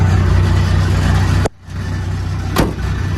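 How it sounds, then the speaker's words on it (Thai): An Isuzu 6BB1 diesel engine in an 8-metre bus with FBR suspension roars loudly, drops off abruptly, then climbs back as the accelerator is pressed, with a brief rev surge near the end. "ทีเร่งเหยียบคันเร่งนะครับ เหยียบแตะคันเร่งเลย"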